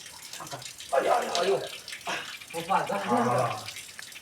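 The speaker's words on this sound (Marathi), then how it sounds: "पाणी पडत आहे इथून अशी धार लागली" Water trickling and splashing down inside a cave, a close, uneven pouring stream that swells and fades in bursts, with a person's voice heard faintly alongside.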